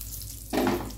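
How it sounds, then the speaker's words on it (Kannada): Cumin seeds and bay leaves hit hot oil in a pan, bursting into a close, loud sizzle after a quiet start. "ಈಗ ಸಿಡಿಲಿಕ್ಕೆ ಸ್ಟಾರ್ಟ್ ಆಯಿತು ಜೀರ"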